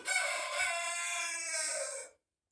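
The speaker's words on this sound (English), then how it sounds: "my rooster won't be quiet" A rooster crows once in a long, drawn-out call, close and clear, then cuts off into silence.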